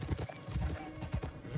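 Horse hooves clip-clop at a brisk pace in the game RedM, a close, rhythmic run of hollow thuds lasting under two seconds with no speech over it.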